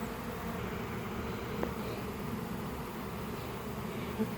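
Dropped honeybees buzzing nearby in a continuous, steady drone that holds at an even level throughout.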